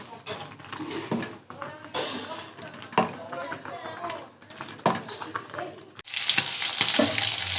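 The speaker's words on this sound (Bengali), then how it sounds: "মছ ভজ হয গছ, তল নব।" Fish frying in mustard oil in a pan, a steady crackling sizzle with scraping and stirring knocks, the frying swelling louder near the end, with a voice talking over it.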